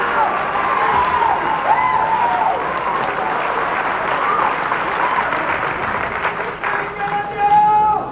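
A bowling crowd at the 1986 Greater Los Angeles Open cheers and applauds after a strike, a steady wash of clapping and shouting that holds throughout and swells near the end.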